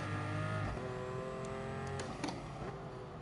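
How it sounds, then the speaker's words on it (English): Toyota Supra engine in GT Sport holding a loud, steady drone, with a shift in pitch partway through and brief tire noise near the end. "Yeah, this Supra sounds pretty nice."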